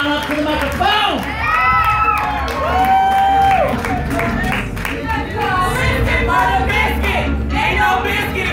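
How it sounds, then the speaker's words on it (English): Audience at a team poetry slam final at an arts festival clapping and cheering, with whoops and shouted voices rising over continuous applause throughout. "Let's keep that applause rolling as we welcome Team Xenon up to the microphone."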